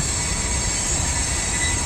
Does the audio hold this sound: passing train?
yes